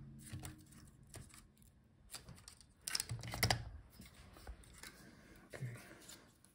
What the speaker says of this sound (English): Now we can pull out the heat sink.